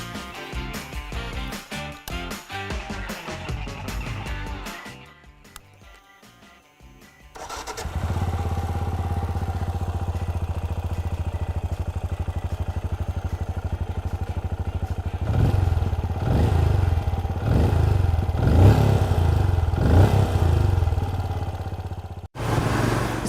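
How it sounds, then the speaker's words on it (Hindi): A Benelli Imperiale 400 motorcycle idles with a rough, choppy rhythm, cuts out briefly, then starts up again into a steady loud exhaust drone with several revs near the end. "आइए सुनते हैं इसका एग्जॉस्ट नोट।"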